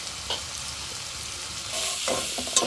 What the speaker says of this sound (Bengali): চিংড়ি মাছটা আর আলু পেঁয়াজ একসাথে ভালো করে আবার ভেজে নিব